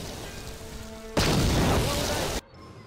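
A sudden loud explosion bursts in Knights of the Old Republic 2 combat, a dense roaring blast lasting just over a second before cutting off abruptly, following quieter game ambience.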